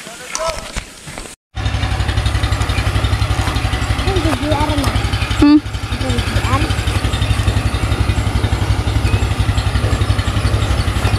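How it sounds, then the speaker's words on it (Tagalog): An engine running at a steady idle, a continuous loud low throbbing chug close by after a brief cut, with voices talking faintly over it in a rural outdoor setting. "mag-umpisa na sila magpaandar ng makina."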